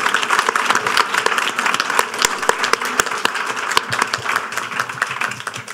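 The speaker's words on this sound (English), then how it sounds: "join me in a rousing round of applause for" Sustained applause from a seated audience thanking a wildfire panel, dense steady clapping at close range with no break across the whole span.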